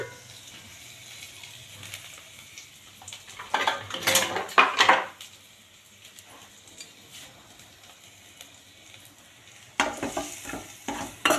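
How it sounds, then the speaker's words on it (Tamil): Mushroom dosa filling frying in a pan, seasoned with pepper, cumin, garlic and turmeric; low steady sizzle with a burst of clattering utensil scraping and stirring midway, then more scraping near the end. "இதில் ஃப்ரை பண்ணுறோம்."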